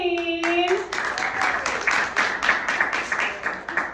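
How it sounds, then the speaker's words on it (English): An audience at a women's comedy open mic claps steadily for a comedian taking the stage, with brisk, even applause that continues throughout, after a brief moment of voice at the start. "I make you keep clapping. Keep clapping."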